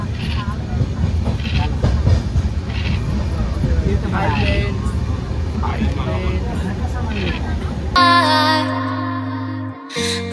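Rumbling, rattling interior of a moving train from Hyderabad to Vizag, with people chatting over it, then music takes over for the final couple of seconds.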